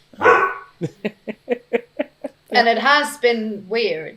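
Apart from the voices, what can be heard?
dogs barking in the background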